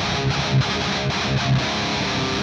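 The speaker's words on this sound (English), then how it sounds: "Then they just turn it into a low, chunky power chord thing with the vicious palm muting." A heavily distorted electric guitar chugs a low, chunky power chord with tight palm muting, a dense and loud rhythmic riff with no voices.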